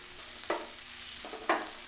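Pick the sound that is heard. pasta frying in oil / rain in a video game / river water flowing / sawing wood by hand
pasta frying in oil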